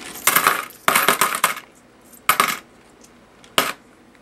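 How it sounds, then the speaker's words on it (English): Pennies poured in four short bursts into a bag resting on a scale, each a bright metallic clatter of coins, the first two longer and the last two brief, with quiet gaps between. "just a few more pennies"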